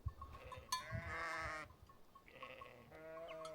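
Tame sheep bleating close by in Scandinavian countryside, two drawn-out wavering bleats separated by a short pause, with faint bell-like clinks and rustling in the background.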